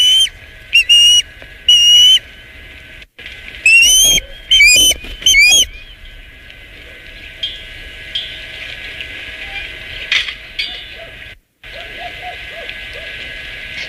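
An osprey calls in a series of sharp, high whistled chirps, loud and close, clustered in the first several seconds and then giving way to quieter background noise with occasional faint calls.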